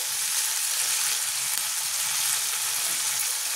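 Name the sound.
onions frying with spice pastes and chopped tomato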